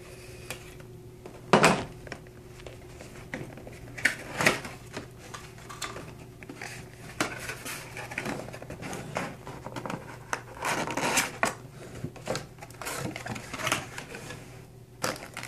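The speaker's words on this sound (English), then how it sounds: "gonna go ahead and cut it open, check out the contents." Box cutter slicing through tape on a sealed retail box holding a Hauppauge HD PVR2 Gaming Edition, heard as scattered close scrapes, taps and rustling cardboard at a moderate level, with no talking.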